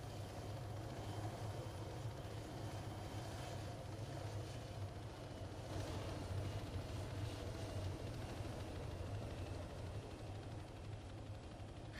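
Helicopter in the video game Arma 3 setting down to land, a steady, loud rotor and engine drone with a low throbbing hum holding continuously throughout, no voices over it.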